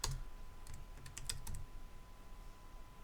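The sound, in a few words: typing on a computer keyboard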